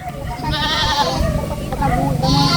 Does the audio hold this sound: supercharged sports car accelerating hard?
no